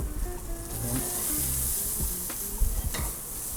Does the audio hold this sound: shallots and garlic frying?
yes